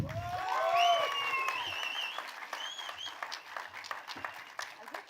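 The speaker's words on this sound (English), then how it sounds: "Round of applause, everybody, once again." An audience applauds at a film trailer release event, a burst of clapping with cheering voices at first that thins into scattered, fading claps.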